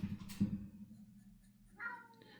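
A house cat meows briefly twice, a short low call followed by a fainter higher one, close by in a quiet room.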